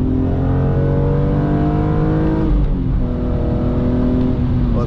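A BMW E46 M3 on a road drive, with exhaust and induction noise filling the cabin as it takes a corner: a loud, steady engine note rises, dips briefly mid-way, then climbs again, heard up close without talk.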